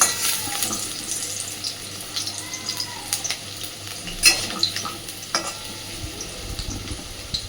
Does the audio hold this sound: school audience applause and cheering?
no